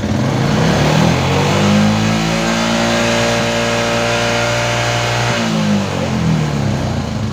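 A Yamaha Jupiter MX motorcycle engine revved and held at high speed in a steady, loud, close drone for several seconds, then dropping back toward idle.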